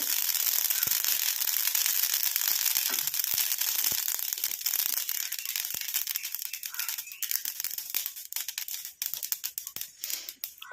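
Fine mustard seeds popping and crackling in hot oil in a pan, a dense rapid patter of sharp crackles that starts loud and thins into sparser pops toward the end.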